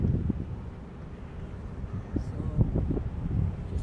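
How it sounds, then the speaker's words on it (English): Strong southeast wind buffets the microphone outdoors at a roundabout overlooking hazy hills, a steady low rumble with gusty swells throughout and a voice speaking over it. "we have a strong southeast wind right now"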